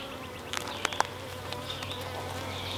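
Honey bees buzz steadily in a new hive opened for inspection, a dense continuous hum close by with a few sharper passes of individual bees, no voices.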